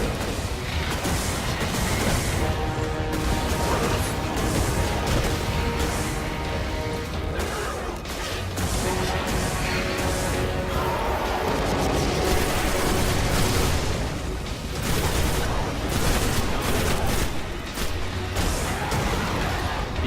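Automatic rifle gunfire in the Destiny 2 video game, rapid, loud bursts rattling steadily over about twenty seconds with brief gaps and booming impacts mixed in, continuous dense combat noise.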